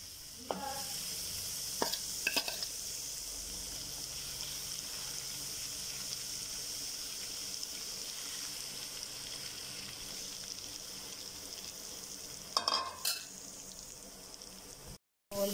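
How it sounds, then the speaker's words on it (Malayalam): Squid pieces fry in a pan for squid biryani, a steady, moderately quiet oily hiss running throughout, broken by a few sharp clinks of a utensil against the pan near the start and again toward the end. "ഇതുപോലെ ബാക്കിയുള്ളതും ഫ്രൈ ചെയ്യാം"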